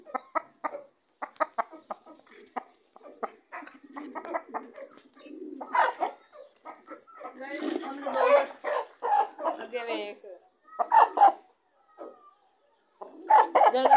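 Chickens and roosters for sale, with clucking and short calls repeating through the scene, mixed with nearby talking that grows busier midway.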